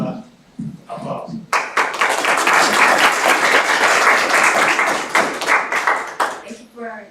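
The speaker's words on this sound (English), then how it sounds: "Please give her a round of applause." After a few spoken words, a symposium audience bursts into close, crisp applause that holds strong for several seconds, then tapers off as a speaker begins to talk.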